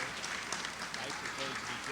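A church congregation at an evening conference claps together in a dense, steady wash of applause, with a voice talking over it throughout.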